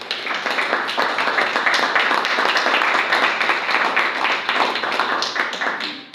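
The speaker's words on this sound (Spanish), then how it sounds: "Un aplauso para Dios." Congregation applauding in church, a sustained full round of crowd clapping lasting several seconds, steady and dense, with a few faint voices underneath, fading at the end.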